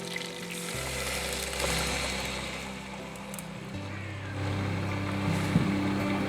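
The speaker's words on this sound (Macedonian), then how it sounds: "ќе налеам вода" Water pours into a cooking pot holding washed vegetables and peels as a fish stock is started; a steady, continuous splashing rush runs throughout with no talking.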